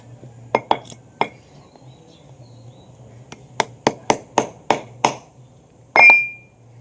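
Roasted oysters (kalwa) are cracked open outdoors in Konkan with a hard tool, giving a series of sharp, close clicks and knocks, a few spaced taps then a rapid run of six, ending in a brief scraping grind.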